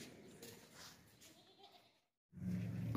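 A large dairy goat bleats loudly and close by at a goat market, a single call arriving near the end after a stretch of muffled background noise.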